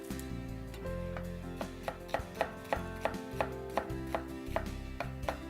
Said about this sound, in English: we're just going to really rustically slice up this onion